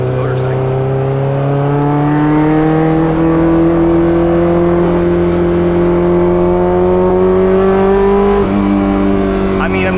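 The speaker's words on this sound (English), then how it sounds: "you also get that effect that sounds like a motorcycle" A Honda S2000 with a built K24 engine drones steadily close by, its pitch rising slowly with a buzzy, motorcycle-like rasp, then dipping briefly near the end.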